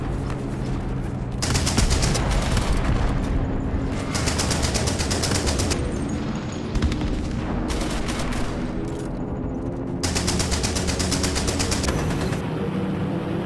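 Incendiary rounds fire in sustained rapid automatic bursts, loud and dense, with short pauses between volleys over a steady rumbling background.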